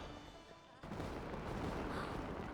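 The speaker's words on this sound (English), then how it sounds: "Look, there are fireworks for each of these 4 designs too." Fireworks bursting during a New Year event in the video game Genshin Impact, a dense crackling and booming barrage that swells loud after a quieter opening and carries on steadily without talk.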